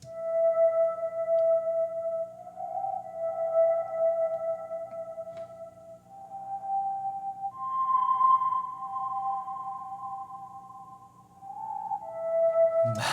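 A synthesized imitation of a slide guitar with effects plays gliding, sustained notes that bend smoothly between pitches, a clean electronic tone heard alone with no talk.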